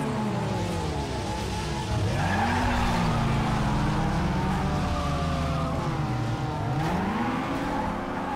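A car in the video game NFS Underground 2 drifts continuously, tires squealing in long sweeping arcs over a steady revving engine, with no pauses throughout.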